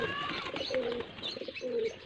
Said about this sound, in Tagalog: Pasyal na naman tayo dito sa mga kalapati.